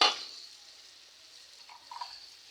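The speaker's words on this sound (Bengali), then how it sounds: "এই তো আমি কাঁচামরিচ পেঁয়াজ দিয়ে ভালোভাবে একটু নাড়িয়ে নিব" Chopped green chili and onion hit hot oil with a brief loud sizzle. The sizzle then settles into a faint, quiet crackle, broken by a couple of soft stirring scrapes near the end.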